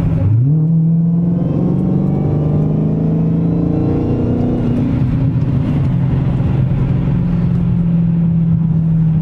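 A Dodge Challenger Hellcat's supercharged engine revs up from a rumbling idle, the pitch climbing and holding with a steady whine, then easing back to a loud, sustained drone, close and dominant throughout.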